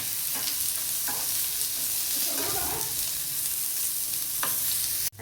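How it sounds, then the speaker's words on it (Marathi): Onions fry in a pan for chole, giving a continuous hissing sizzle with occasional soft stirring scrapes and knocks of the spoon, close and moderately loud, with no one speaking. "आता कांदा चांगला लाल होऊ देऊया."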